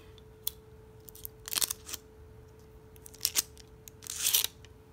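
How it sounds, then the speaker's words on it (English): Crinkly plastic wrap is peeled off a Moto E6 phone's wall charger brick, giving scattered crisp rustles and crackles up close, with quiet pauses between them and no talk. "Just unwrap that."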